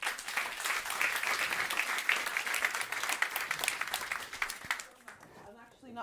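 Audience applause at a public talk on nourishing people and planet: dense, steady clapping from a crowd that holds for about five seconds, then thins and fades out near the end.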